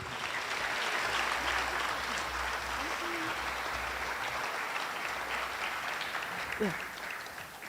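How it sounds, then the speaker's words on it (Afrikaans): An audience at a prestige evening awards event gives sustained applause and hand clapping, a dense steady wash of clapping throughout with some voices underneath. "Ek dink ons kan vir almal 'n lekker hande klap gee."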